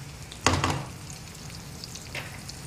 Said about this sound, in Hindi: प्याज को पहले अच्छे से फ्राई करना है।